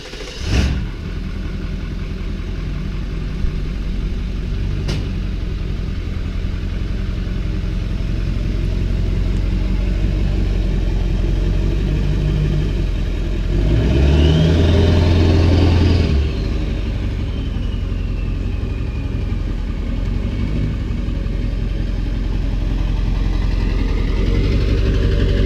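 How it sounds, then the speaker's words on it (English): A 2003 Honda 400EX quad, freshly running after carburetor work, idles steadily close by with a low, even rumble, then revs up briefly once before settling back to idle, with no talking. "this is my dad's Honda 400EX. It's a 2003. Needed a little carb work, we got it running."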